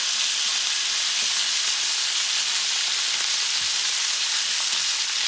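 A pork chop frying in butter in a pan gives off a loud, dense, continuous sizzle and hiss that holds steady without pause.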